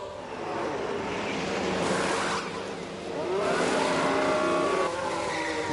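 A Formula 1 car in the racing game F1 Manager 22 entering the pits, a loud continuous engine roar that dips briefly and then swells again, with no talk over it.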